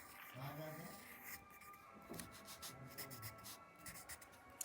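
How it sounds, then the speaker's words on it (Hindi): A lesson being written by hand, with a pen scratching and rubbing on paper in short strokes, fairly quiet, and a faint voice murmuring in the background. "अब हम सबक लिखते हैं।"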